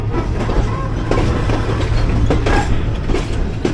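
A train shunting at a station: a loud, steady low rumble with irregular metallic clanks and rattling couplings on top, heard close up, with faint voices in the background.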